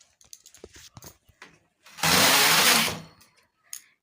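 A sweater knitting machine carriage slides across a row of green wool while knitting a rose pattern, giving one loud, rushing mechanical swipe of about a second, with faint clicks and handling before it.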